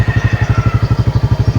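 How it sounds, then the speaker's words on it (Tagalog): A motorcycle engine runs on a dirt trail with a steady, pulsing low chug, close and fairly loud, the rhythmic throb continuing without talk. "Yan, pinasok natin yung motor."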